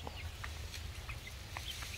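Chickens clucking in a coop area near spilled rice feed, with short scattered clucks and calls over a steady low background hum.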